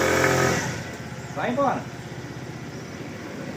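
A Bull F5 Spirit scooter, just started with a cold engine, idles and revs while parked on a slight uphill slope. The motor drones under a man's speech, with a brief rev swell in the middle.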